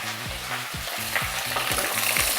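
Garlic is stirred in a hot pan while making mushroom soup. A spoon scrapes the pan in quick rhythmic strokes over a constant sizzle, close and fairly loud with no voices.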